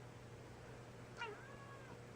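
A pet cat gives one short meow indoors, faint but clear, over a steady low hum in the background.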